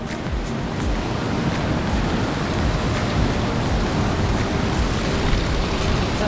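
Sea waves break below a cliffside waterfall hiking trail on Nusa Penida, a steady loud wash of surf with gusty wind rumble and no voices.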